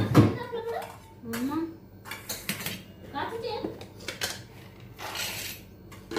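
Clinking and clattering of storage jars and dishes being emptied, handled and set down during kitchen deep cleaning, with a voice speaking intermittently throughout.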